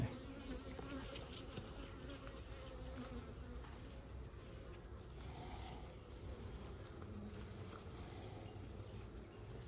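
Honey bees buzz steadily around an open beehive during an inspection, a faint, continuous droning hum with occasional nearer passes, no talking.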